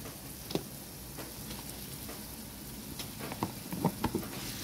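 Ground beef sautéing in a hot pan gives a steady, close sizzle and crackle, with a few louder pops and stirring scrapes near the end.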